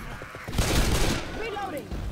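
A rapid, close burst of gunfire in the video game Left 4 Dead 2 sounds over game noise, with a voice talking partway through.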